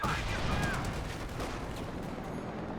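Continuous battle gunfire in a World War II strategy game as an M1 fires long-range shots at a Panzer IV and a Puma armored car, a dense, loud rattle of overlapping shots and explosions throughout.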